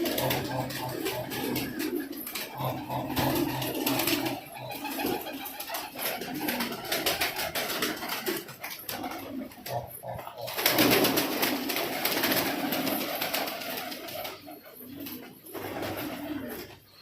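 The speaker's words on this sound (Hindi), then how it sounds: "जिस तरह से ये उड़ रहे हैं और फड़फड़ा रहे हैं" A flock of pigeons coos and flutters nearby, wings flapping in bursts over a constant busy background of birds.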